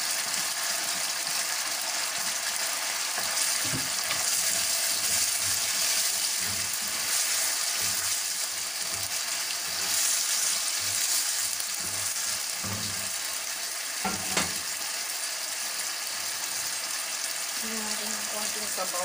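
Bitter gourd sautés with sardines in a pan, producing a constant loud sizzle over nearly twenty seconds, punctuated by occasional scraping and stirring knocks, with a voice briefly audible near the end.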